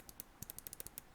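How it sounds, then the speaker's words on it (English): A Glorious Model O gaming mouse's left button gives a quick run of about a dozen sharp, close, quiet clicks in an uneven rhythm, with no voices. "Left click,"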